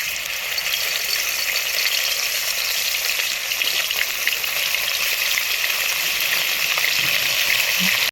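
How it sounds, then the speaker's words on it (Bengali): Fish fries in hot mustard oil with a loud, dense, continuous sizzle that holds steady throughout, close up and alone. "তেলটা হিট হয়ে গেছে, এখন আমি মাছটা দিয়ে দেব"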